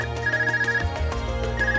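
An ARCUS communication device from Trails of Cold Steel rings with a bright, repeating electronic ringtone melody pulsing steadily over about two seconds, loud and alone, with no talk over it.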